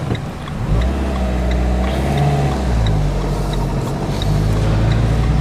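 A car driven during a driving exam, its engine a steady, close low hum with gear changes and shifting pitch throughout, no voices.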